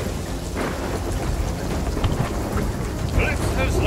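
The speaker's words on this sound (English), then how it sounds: "Lightning cracked the spire." A thunder and lightning storm in the Sea of Thieves pirate game, with a loud, continuous rumbling wash of rain and storm noise and brief crackling bursts, while a voice speaks over it.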